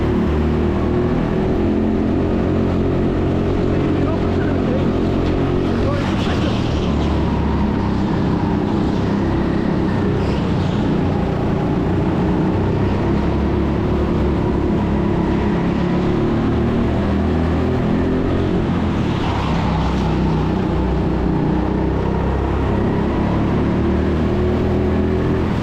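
Go karts racing at TeamSport Sheffield, a steady drone of kart engines with passing whines rising and falling, moderately loud and continuous with no speech.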